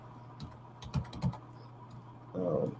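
Typing on a computer keyboard at close range, two short clusters of clicky keystrokes followed by a brief burst of rapid key presses near the end, fairly quiet.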